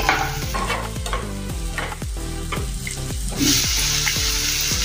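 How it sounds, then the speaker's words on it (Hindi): Finely chopped carrot is stirred into a rice flour mixture in a pan, with loud repeated scraping strokes and a frying hiss underneath, close and without speech. "अभी इसमें हम बारीक कटा हुआ गाजर डालेंगे। इसको भी अच्छे से मिक्स करेंगे।"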